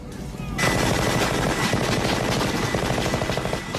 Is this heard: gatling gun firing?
yes